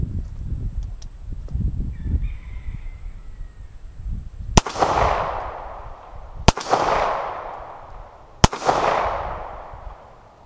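Three loud, sharp shots from a 1970s Star BM 9mm pistol at a shooting range, spaced about two seconds apart, each followed by a long echoing decay; a low murmur of background noise comes before the first shot.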